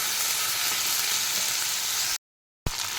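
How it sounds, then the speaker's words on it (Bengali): Malabar spinach seeds sizzle steadily as they stir-fry in hot oil in a wok, a dense continuous frying hiss that drops out briefly near the end before resuming. "এবার একটু কিছুক্ষণ নেড়ে চেড়ে ভেজে নেব।"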